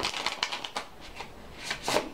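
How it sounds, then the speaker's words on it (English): Tarot cards shuffled by hand, with a run of soft papery riffles and flicks spread over two seconds, close and fairly quiet, no talking. "let's pull some more tarot cards"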